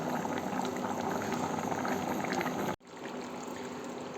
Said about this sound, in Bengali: আলুটা সেদ্ধ হওয়াটা আরম্ভ হয়ে গেছে